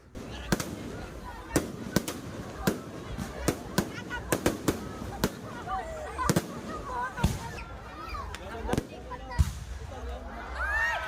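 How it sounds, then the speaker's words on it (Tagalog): Fireworks bang repeatedly at irregular intervals, sharp booms and crackles over a murmur of crowd voices in the open air at a fireworks display in Matalam, North Cotabato. "samahan nyo na nga akong panuurin yung pa-fireworks display nila dito."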